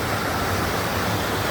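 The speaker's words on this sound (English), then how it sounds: "really get up close and personal, with the waterfall" A waterfall at a private lake in Muskoka rushes continuously, heard up close as a loud, dense, unbroken roar of water with no other sounds.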